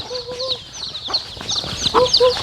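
Chickens cluck close by on a rural Thai property, a busy run of short, loud clucks and squawks overlapping one another in quick irregular bursts.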